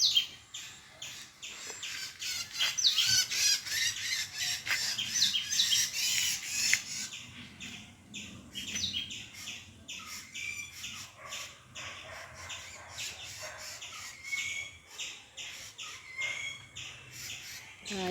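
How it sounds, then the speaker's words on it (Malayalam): Rufous treepie calling among several birds in a village garden, loud squawking and chirps in the first several seconds, then sparser, fainter calls and clicks against quiet outdoor background. "ഓലമഞ്ഞാലിയുടെ കരച്ചിൽ കേൾക്കുന്നുണ്ട്"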